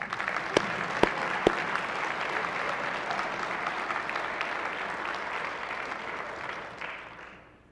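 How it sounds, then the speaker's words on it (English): Applause rises from the chamber during a state Senate floor session, steady crowd clapping with a few sharp knocks near the start, fading out over the last second. "we'll clap for you too"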